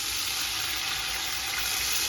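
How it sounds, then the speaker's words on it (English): Seasoned water poured into a cooking pot holding browned turkey necks and broad beans, a steady close rushing splash that runs without a break and with no talk. "I'm just going to add in some water"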